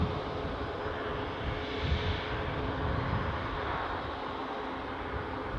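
An incoming easyJet airliner approaching Newcastle airport gives a steady, broad engine roar that holds at an even level throughout, with no talk.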